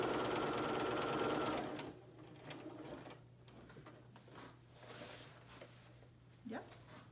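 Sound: sewing machine stitching cloth napkin fabric

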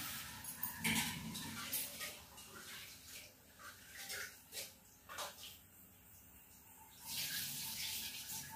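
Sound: tap water running

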